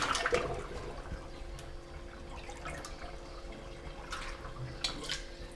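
Water drained out of a copper distilling still during cleaning, a faint, steady trickling and splashing with occasional drips, heard alone.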